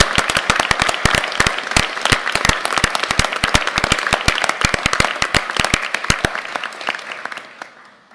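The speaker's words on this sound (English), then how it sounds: "Let's give them a round of applause" Round of applause for presenters at a university board of regents meeting: sharp, close individual claps ring out in a quick irregular patter, steady and loud for about seven seconds before tapering off.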